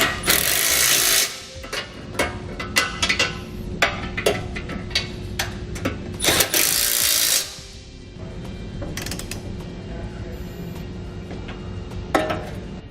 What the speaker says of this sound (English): we can now tighten and torque all of our hardware to the specifications found in our instructions